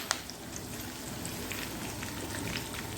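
Curry leaves crackle and sizzle in hot oil with mustard and cumin seeds, a steady dense spitting hiss with scattered sharp pops.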